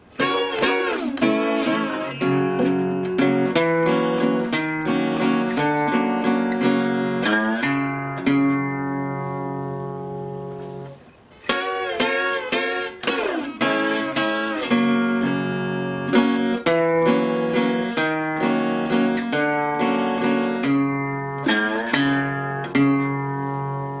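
Acoustic guitar plays the introduction of a country blues song, a steady stream of picked bass notes and ringing chords with a brief pause midway, close and continuous without talking.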